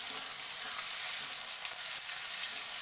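Onions and garlic sizzle steadily in a hot pan for a mushroom curry, a dense continuous frying hiss with faint scraping as they are stirred, close and alone with no voices.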